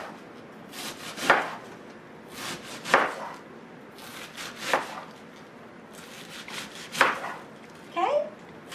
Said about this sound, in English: and just start slicing it